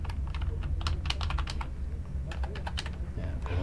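A password typed on a computer keyboard, heard as quick, irregular clusters of close, light key taps in two bursts with a short pause between them, over a low room hum.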